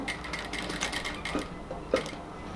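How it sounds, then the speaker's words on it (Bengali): A sewing machine lock-stitches a luxury cotton kameez, giving short bursts of mechanical whirring and clatter with a couple of sharper clicks, close and alone without talk. "এখানে লক সেলাই দিয়ে নিব।"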